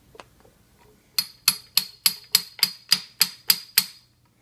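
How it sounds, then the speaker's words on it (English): A hammer lightly taps a driveshaft carrier bearing into place: ten sharp metallic strikes at a steady, even rhythm, fairly close and ringing slightly, after a couple of softer preliminary taps. "grab a hammer and start lightly tapping it on"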